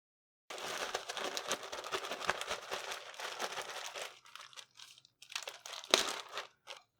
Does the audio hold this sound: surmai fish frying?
no